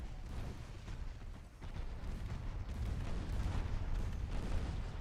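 Naval guns of warships fire in the video game Ultimate Admiral: Dreadnoughts, a steady low rumble of distant booming broadside fire that runs throughout, with several softer thuds and no talking.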